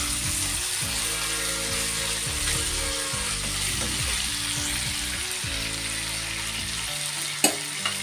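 Mutton curry cooks in a frying pan with a constant bright sizzle, overlaid by a rhythmic mechanical ratcheting whir and a sharp clink near the end, with no voices.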